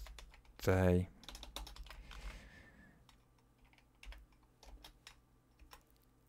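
Keys on a computer keyboard tapped in short bursts and single clicks while entering code, fairly faint and close, with a person speaking briefly over the start.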